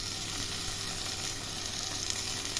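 Tomatoes roast in a hot kadai with a continuous soft sizzle and faint crackle, quiet and steady throughout.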